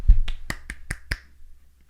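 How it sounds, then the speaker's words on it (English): A man claps with just his palms, six sharp close hand claps in a quick, even rhythm that fade into a quiet room. "That's him clapping with just his palms."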